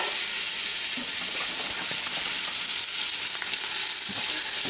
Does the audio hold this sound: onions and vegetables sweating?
yes